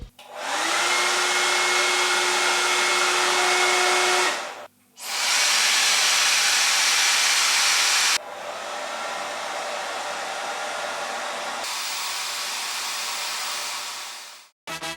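A Shark hair dryer runs alone in several long loud bursts of rushing, whining airflow, cut off briefly between settings, with the last stretch a little softer before it switches off.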